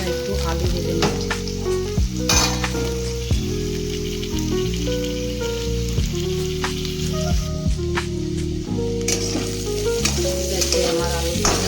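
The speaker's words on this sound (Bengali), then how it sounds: "তাই একটু আলু ভেজে নিচ্ছি" Potatoes fry in hot oil in a pan, a loud, dense, continuous sizzle close by, broken by repeated scraping stir strokes throughout, with no talking.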